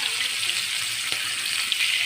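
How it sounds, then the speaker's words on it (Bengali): Chicken marinated with ginger and garlic frying in hot oil in a heated wok for biryani, giving a steady, close sizzling hiss that holds evenly throughout with no talk. "কড়াইটা গরম হয়ে গেছে, তেল দিয়ে দিতেছি"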